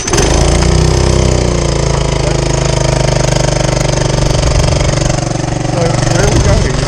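Sailing boat's engine throttles up, a steady loud mechanical drone with a low harmonic hum that holds for several seconds, close by, with voices talking faintly over it.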